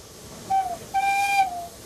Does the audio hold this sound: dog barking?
no